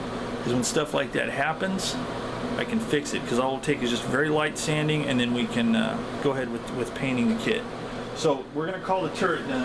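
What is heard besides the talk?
ventilation fan running in an enclosed workshop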